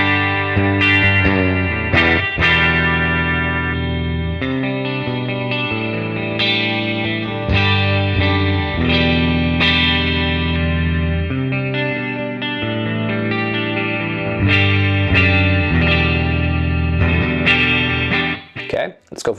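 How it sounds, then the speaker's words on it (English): A PRS SE CE 24 electric guitar plays high-gain distorted riffs on the bridge pickup and then the middle pickup, thick sustained chords and picked notes that ring out loud and close for about twenty seconds before cutting off. "So this is the bridge pickup, and then I'll go to the middle and then the neck"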